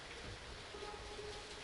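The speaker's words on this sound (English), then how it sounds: "Rain." Steady rain in Rainbow Six Siege hisses as a faint, continuous wash of noise with a low rumble beneath, holding even throughout with no voices.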